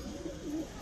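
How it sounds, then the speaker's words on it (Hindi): Saharanpuri Lal Ambarsire pigeons give a soft, low cooing call, a couple of rolling coos close by over a steady background hum, with no talk. "ये देखो एक नंबर क्वालिटी में कबूतर, किंग साइज में कबूतर हैं"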